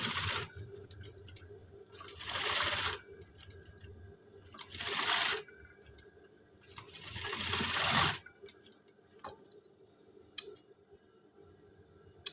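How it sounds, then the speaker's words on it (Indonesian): A sewing machine stitching a scout uniform runs in four bursts of rapid mechanical whirring, each lasting about a second, separated by quiet pauses with small clicks and handling noises. "Kita jahit."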